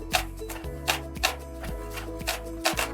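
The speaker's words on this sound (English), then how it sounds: "We're going to slice these also." A knife slices thick vegetables on a cutting board for a crunchy pea salad, giving a steady run of sharp, close board taps about every half second, with no talk.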